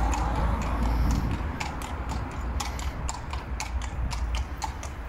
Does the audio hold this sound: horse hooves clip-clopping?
yes